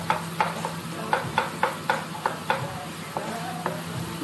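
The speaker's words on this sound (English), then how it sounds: "just let that saute for a good 2 minutes" Chilies sauteing in a pan for a coconut cream crab curry: a steady close sizzle under a run of about a dozen sharp spatula scrapes and taps against the pan, with no talking.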